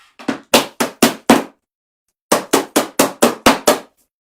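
Two bursts of sharp, loud tapping, five knocks then a pause and six more, as die-cut craft pieces are tapped out of a metal cutting die, with no talking.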